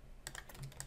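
Computer keyboard keys pressed as shortcuts in music production software, a quick cluster of light clicky taps, close and fairly quiet with no talking.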